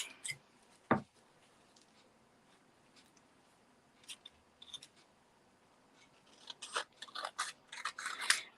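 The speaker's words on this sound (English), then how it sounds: "my vellum, I'm just going to cut that down" Scissors cutting vellum paper for a WOW fold card, a few sharp snips early on then a dense run of quick crisp cuts near the end, close and fairly quiet with no talk.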